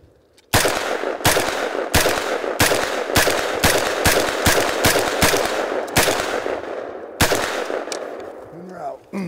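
An automatic rifle fires about a dozen sharp, loud bursts in quick, uneven succession, emptying a 30-round magazine, with brief gaps between shots and a fading tail at the end.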